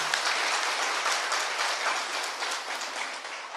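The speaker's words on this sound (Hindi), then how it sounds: "एक बार जोरदार ताली अपने आप के लिए।" An audience at a spiritual talk breaks into loud applause, a thick and continuous roar of clapping that holds steady from start to finish.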